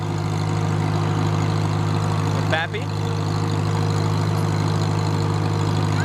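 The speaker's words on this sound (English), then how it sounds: "We riding on a tractor?" A Farmall H tractor engine runs at a steady low idle-like drone throughout, close and constant, while a person briefly speaks over it.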